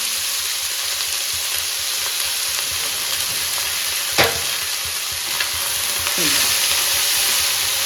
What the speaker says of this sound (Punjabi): ਕੱਟੇ ਹੋਏ ਪਿਆਜ਼ ਤੇ ਹਰੀਆਂ ਕੋਕਾਂ ਦੇ ਵਿੱਚ ਪਾ ਦਿੱਤੀਆਂ